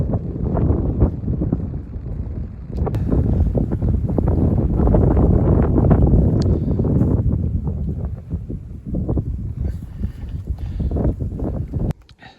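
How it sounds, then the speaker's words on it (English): Strong, cold wind on the Appalachian Trail in the Smoky Mountains buffets the microphone in heavy, roaring gusts for several seconds, loud and close, before cutting off abruptly near the end. "the wind makes it that much worse"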